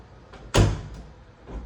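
A linen closet door in a new LGI-built home swings shut with one solid, close thud, followed by a faint trailing knock in a quiet room.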